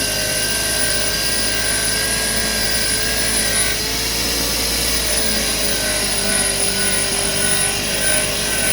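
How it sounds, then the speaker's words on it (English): An electric bench grinder works carbon deposits off the valves of a 1997 Ford cylinder head, giving a steady, loud, continuous whine and hum that holds unchanged throughout without talk. "So then I come over here to the grinder."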